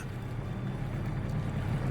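A video-game boat's engine drones low and steady as it putters along, with a faint wash of water and wind, no voices.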